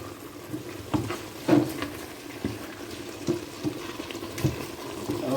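Vegetable oil added to a pot of egusi soup with kale gives a low simmering bubble and sizzle, with scattered stirring knocks against the pot, close and fairly quiet without talk.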